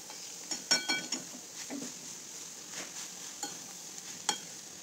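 Crushed jackfruit and onions are stir-fried in a pan, giving a quiet sizzle broken by scattered clacks and scrapes of the spatula against the pan.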